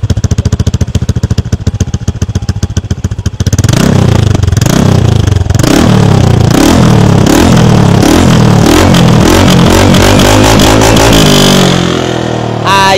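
A motorcycle fitted with a Villain power pipe exhaust and silencer revs hard up close, starting as a rapid, choppy idle pulse and then rising into a loud, sustained, surging roar with repeated throttle blips.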